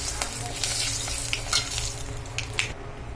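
Mint chutney with a pinch of asafoetida is stirred in a pan, with a steady sizzle and spoon scrapes close by that come in uneven strokes, and no one speaks.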